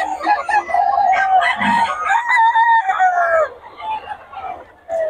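Roosters crowing close by at a rooster market in Bocaue, Philippines, long drawn-out calls overlapping one another, with some clucking underneath.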